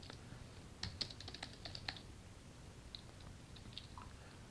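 Someone types on a computer keyboard, producing faint, quick clusters of soft clicks and taps that fade into a quiet room hiss.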